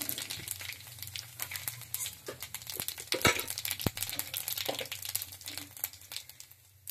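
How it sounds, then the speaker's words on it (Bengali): Cumin seeds, a bay leaf and a dried red chilli crackle and spit in hot oil after fish frying, a close, busy crackling with sharp pops over a low sizzle. "এই তেলের মধ্যে আমি জিরে, তেজপাতা, একটা শুকনো লঙ্কা তেলে দিয়ে দিচ্ছি।"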